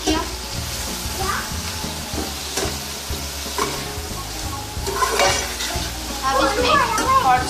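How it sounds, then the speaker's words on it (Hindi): Chicken, green onion, salt and crushed red chilli stir-fried together in a pan sizzle steadily while a utensil scrapes and clatters in rhythmic stirring strokes, close by, with faint voices in the background. "अच्छे तरीके से मिक्स किया।"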